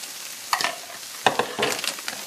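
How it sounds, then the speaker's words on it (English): Onions, pepper and bacon frying in a pan for low-carb smothered hash browns, with a steady sizzle broken by several close scraping stirs and clatters of a utensil against the pan. "we're going to put the onions and pepper and bacon into it"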